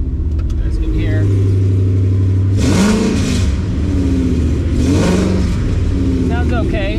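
Coyote-swapped Foxbody Mustang with MagnaFlow exhaust, its V8 idling in a low rumble and then revved twice in short bursts; talk runs over the engine throughout.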